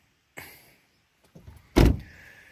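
Car door after a DIY dent repair, opened with a faint latch click and then shut with one loud, close thump that rings briefly before fading.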